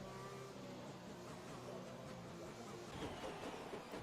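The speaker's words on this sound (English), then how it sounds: "revving the piss out of his engine" F1 race car engine in the F1 2021 racing game at Zandvoort, a steady buzzing drone that rises toward the end as the engine is revved hard, with faint background commentary.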